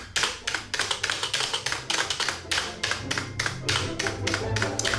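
Rattling keys on a custom mechanical keyboard are typed in quick, uneven bursts of sharp clacks, loud and close, with short pauses between flurries and no talking.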